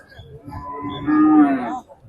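A cow gives one long, loud moo that rises out of low background noise at a Qurbani cattle market, close to the listener.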